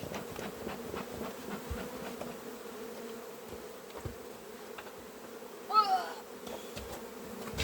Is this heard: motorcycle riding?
no